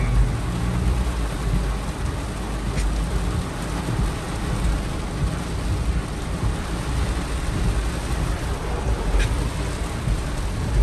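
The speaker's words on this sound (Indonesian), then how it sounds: "Hujannya deras sekali." Heavy rain pours steadily in a thunderstorm, with low rolling thunder rumbling underneath throughout, loud and close with no voices.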